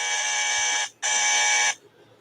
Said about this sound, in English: That's my bozo buzzer